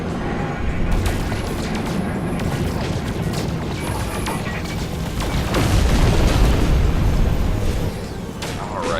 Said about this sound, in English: Look at that, solid hit with those missiles.